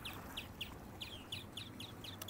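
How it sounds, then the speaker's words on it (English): Birds in a coop just up from a quiet coastal beach give a run of short, repeated high calls at a steady pace, fairly faint over a low outdoor rumble. "Even got a bird coop just up there."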